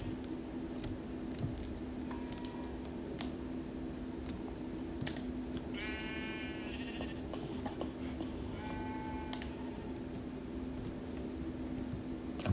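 A few short sheep bleats from the Minecraft video game sound faintly at intervals over a steady background hum, alongside soft keyboard clicks.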